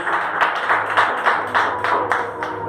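Many people clap together in a steady rhythmic beat, about two claps per second, loud and close, filling a large room during a church worship service.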